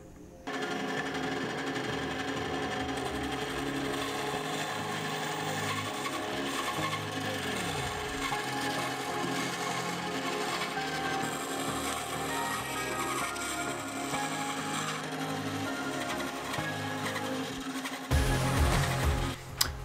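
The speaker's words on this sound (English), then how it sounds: "Now we are going to cut it on the bandsaw." A bandsaw cutting a wooden bowl blank that becomes a carved leaf: a continuous loud mechanical hum and blade rasp that runs nearly unbroken, with some heavier thumping knocks near the end.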